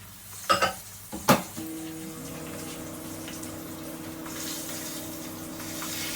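Fish frying in a pan in a home kitchen, turned with a utensil. Two quick metallic clanks and scrapes are followed by a steady, soft sizzle with a low background hum.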